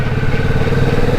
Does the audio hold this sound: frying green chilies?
no